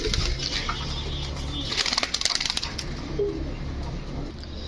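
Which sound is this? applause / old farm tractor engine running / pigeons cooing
pigeons cooing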